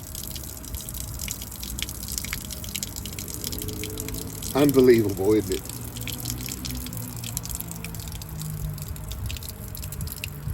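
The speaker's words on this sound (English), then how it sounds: "This is the water that was clogged up inside of her door." Water clogged inside a 2015 Buick Cascada's door splashes and gushes briefly midway through as it drains, over a steady low background hiss, with a voice speaking near the end.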